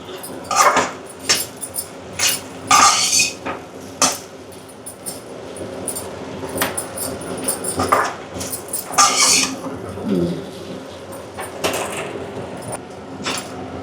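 Egg noodles being stirred and fried in a pan over high heat, irregular clanks and scrapes of a utensil against the pan over a low frying hiss.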